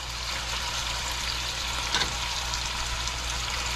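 Chicken pieces fry in a pan on a gas stove, a steady broadband sizzle that holds throughout, with one brief stir or shift of the food near the middle; no voices.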